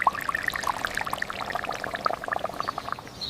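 Hot ghee tempering with mustard seeds and curry leaves poured into rasam, giving a busy, crackling, bubbling pour of scattered pops and sizzles that runs steadily through the moment, close and fairly quiet, with no talk.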